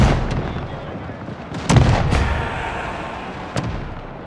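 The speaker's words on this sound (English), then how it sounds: "The musketeers are going to fire soon, I'm sure." Musket volleys in the Pike & Shot battle game, heard as several sharp gunfire cracks: one strong report near the middle, another soon after and a smaller one near the end, over a steady low battlefield rumble.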